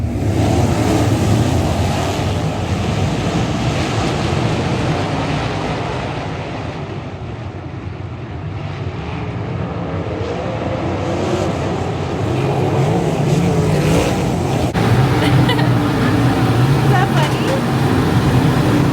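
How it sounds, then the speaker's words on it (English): USAC sprint cars with 850 horsepower engines race around the Kokomo track, a loud continuous engine roar with wind buffeting that dips slightly midway and swells again, with talk mixed in. "The sprint cars are on the track"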